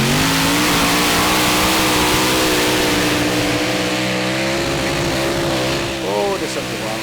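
A pulling tractor from Sweden, the Cougar, roars at a 2016 Eurocup tractor pulling competition in Brande, Denmark, with a loud, sustained engine drone whose pitch holds high and shifts slightly, with a brief change near the end.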